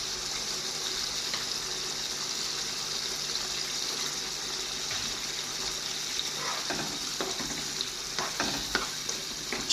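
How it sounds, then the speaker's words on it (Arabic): Tomato pasta sauce simmering in a pot while it is stirred, a steady close bubbling hiss with soft scraping and stirring noises toward the end. "والقلايه نتاعي تغلي مليح مليح مليح، توا باش نزيد الطماطم المعجونه."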